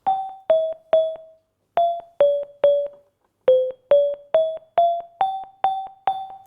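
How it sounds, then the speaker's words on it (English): An NMR spectrometer plays a simple melody by shifting its carrier frequency: a series of short, plucked-sounding electronic tones in small groups separated by brief pauses, clean and alone. "So we can play music by using a very expensive NMR spectrometer"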